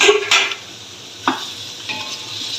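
Mutton pieces drop into a pot of browned onions and whole garam masala for degi pulao, giving a sharp sizzle with clinks and stirring scrapes that settles into a softer hiss.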